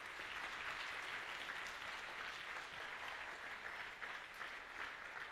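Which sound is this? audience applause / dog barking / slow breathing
audience applause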